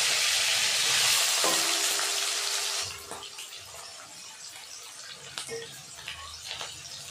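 Onions frying in hot oil with cumin, nigella seeds and green chilli: a loud, dense sizzling hiss that settles into a quieter crackle, broken by occasional light clinks of a spatula.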